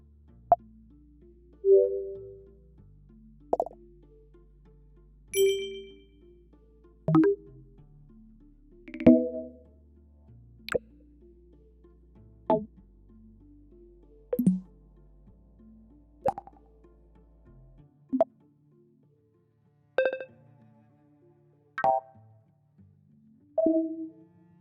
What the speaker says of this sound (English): Big Sur includes tons of new sound effects.